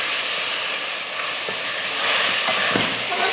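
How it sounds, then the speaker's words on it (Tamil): Chicken sautéing in a pan for Dindigul biryani gives a steady, fairly loud broadband sizzle and hiss that swells slightly midway, with no talking. "சிக்கனை சேர்த்து ஒரு 2 நிமிஷம் வதக்கிக்கோங்க"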